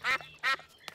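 Two loud, nasal cartoon duck quacks at a duck pond, close and clear, followed by a fainter short call.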